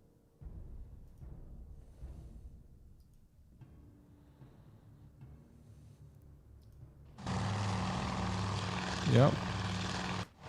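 Carrier aircraft propeller engines roar in the naval strategy game Task Force Admiral, rising suddenly into a loud, steady drone after a quieter stretch of low rumbling.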